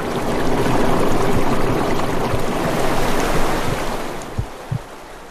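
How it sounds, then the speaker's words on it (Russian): Meltwater from the Tuyuksu glacier streams past in a loud, continuous rush, with a few sharp splashes or knocks near the end. "Потоки тающей воды."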